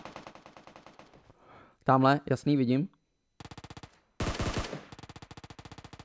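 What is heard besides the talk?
gunfire in video game PUBG Mobile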